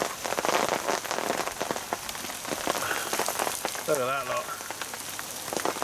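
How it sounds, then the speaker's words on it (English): Heavy rain pours down in a sudden storm at a fishing lake, a dense steady patter drumming on surfaces throughout, with someone briefly talking over it near the end. "It's just started to pour down with rain, proper big old chunks of rain and all."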